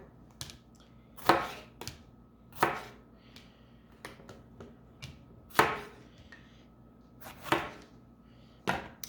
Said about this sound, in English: so now I'm going to cut the ends off the jalapeno